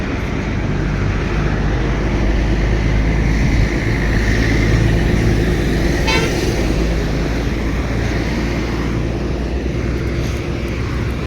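Highway traffic beside a roadside hotel, a loud continuous roar of passing vehicles with one brief horn toot partway through and no talking.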